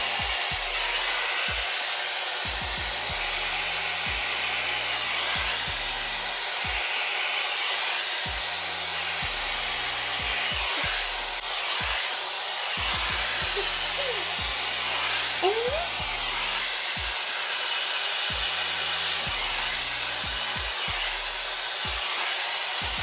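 Dyson Airwrap hair styler with the wide-tooth comb attachment blowing air through thick wavy hair, a loud continuous whooshing drone that holds steady throughout, with faint low knocks and rustles of handling beneath.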